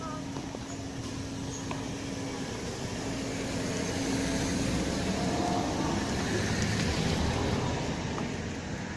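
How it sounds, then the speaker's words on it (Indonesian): A car passes along an outdoor street where a child is out walking, its engine and road noise forming a steady broadband rumble that swells slightly toward the end, with people talking nearby. "Awas, dia ada mobil."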